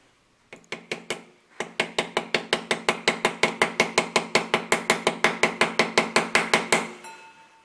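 Injector adapter being hammered into the cylinder head of a turbocharged four-wheel-drive Austin Mini through a lathe-made hammer interface, a long run of evenly spaced sharp metallic blows, close and loud, after a few hesitant opening strikes.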